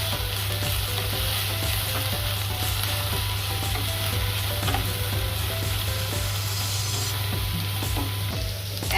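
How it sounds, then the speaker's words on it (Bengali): Onion and green chilli for kanda poha sizzle steadily in hot oil, with a spatula stirring and scraping the pan every few seconds; the frying is close and continuous, with no voices. "এখন এটা ভাজা হোক ভালো করে।"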